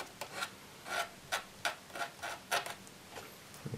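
Fine-grit sandpaper rubs a small model fire-escape ladder piece in short, faint rasping strokes, roughly eight separate passes spaced unevenly, quiet and close with no talking.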